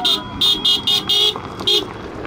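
Cars arriving on a newly opened mountain road to a village honk repeatedly, five short toots then one more, loud and near over faint road noise and murmuring voices.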